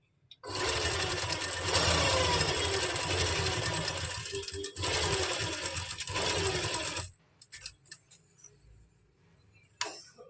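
An electric sewing machine stitches a pleated kurti, running in a fast, steady whirring chatter for several seconds, pausing briefly once, then resuming before stopping, followed by a few scattered clicks and handling taps.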